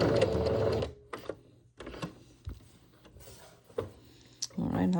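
Home sewing machine stitching elastic onto fabric, its motor whirring in short bursts separated by pauses, clicks and handling noises, with a voice speaking nearby.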